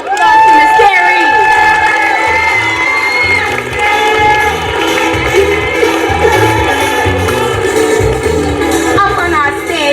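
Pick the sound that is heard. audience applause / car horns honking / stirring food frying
audience applause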